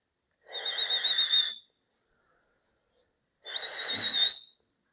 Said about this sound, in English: contract your lips and make a whistling sound while inhaling